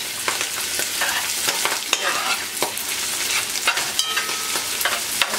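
Wet spices frying and being mixed in a pan for shrimp and veggie fried rice, a steady close sizzle broken by brisk scraping stirs and light clicks of the spoon.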